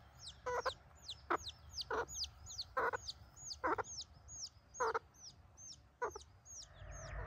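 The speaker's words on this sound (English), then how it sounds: "I think it's safe to say we got enough chicks now." Chicks on a farm peep in a steady run of short, high, repeated calls, mixed with louder, broader clucking from fowl nearby. No one speaks.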